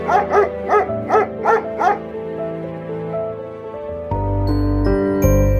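Cartoon mother dog barking while chasing a puppy: six quick, rhythmic barks up close in the first two seconds, followed by tonal music that swells louder toward the end.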